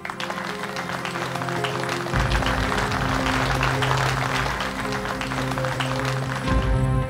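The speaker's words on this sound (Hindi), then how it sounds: "तो चलिए फिर शुरू करते हैं। तालियां।" An audience applauds on the set of a singing show, a steady, dense wash of clapping that holds throughout, fairly loud and close, with a low hum underneath.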